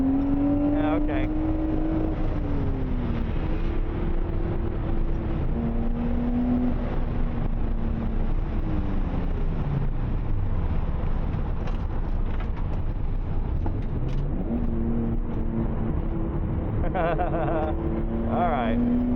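A Nissan A31 Cefiro engine held at wide open throttle in third gear through a high-speed drift, a loud sustained roar rising and falling in pitch, with a voice talking over it.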